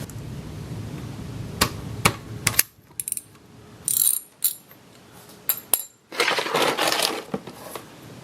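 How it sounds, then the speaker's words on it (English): A ratchet with a 24mm socket loosens the oil drain plug on a Piaggio BV 250 scooter engine, with close, crisp clicking bursts broken by short pauses and a few metallic taps. "you'll need a 24mm socket to take that drain plug off"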